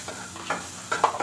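Food fries in a pan with a steady sizzle, broken by a few sharp scraping knocks of a spoon stirring it, close and fairly loud with no voices.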